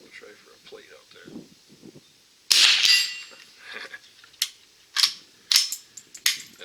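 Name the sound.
Stevens Model 87 rifle shot at a steel plate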